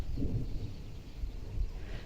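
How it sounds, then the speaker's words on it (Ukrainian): Distant thunder rolls over a garden plot during a strawberry harvest as a storm circles nearby, a low, soft, continuous rumble that swells and fades. No one speaks. "Подивіться, яке вон там небо, гримить, ще і блискавка."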